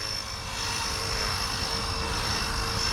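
A Blade Fusion 180 RC helicopter flies close by with its blades spinning at about 60 to 65 percent throttle, giving a loud, steady whirring whine with a bright, high-pitched tone that holds throughout.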